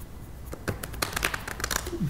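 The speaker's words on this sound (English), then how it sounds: "I like the way you shuffle." A deck of playing cards being shuffled by hand at a close-up magic performance, with a run of quick papery riffling clicks close by. A voice murmurs briefly near the end.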